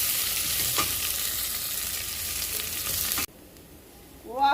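Onions fry in hot oil in a pan, giving a steady, loud, close hiss. It cuts abruptly to a quieter sizzle, then swells again briefly at the end.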